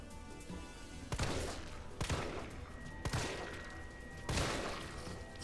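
Gunshots from a weapon in Resident Evil 3 ring out in about five heavy, separated blasts, each with a booming decay, loud and close with no talk.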